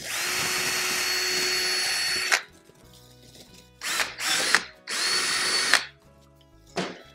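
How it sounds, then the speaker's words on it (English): A power drill with a 17/64 inch bit bores a small pilot hole, whining steadily for a couple of seconds, then running in several shorter loud bursts close by, with no talking. "I'm using a 17/64 inch drill bit. I'm just gonna drill another hole right there. I'm gonna drill a little pilot hole first though."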